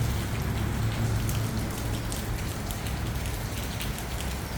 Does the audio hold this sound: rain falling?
yes